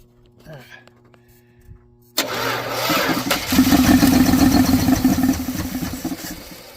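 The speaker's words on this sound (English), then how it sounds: "You can kind of hear that clicky clack clack click" A 1979 Dodge engine that has sat for years is cranked over, goes quiet, then catches with a sudden loud burst and settles into a rough, clattering, clicking run close by.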